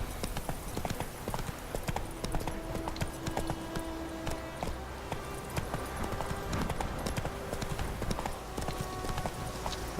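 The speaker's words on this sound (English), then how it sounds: "Clip clop, clip clop." Horse hooves clip-clop steadily in The Witcher 3 video game, a continuous trotting rhythm under background game music and ambience.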